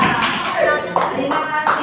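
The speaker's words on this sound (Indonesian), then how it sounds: "tepuk tangan anak semua" Children clapping their hands in a classroom, a few quick claps under an adult voice speaking throughout.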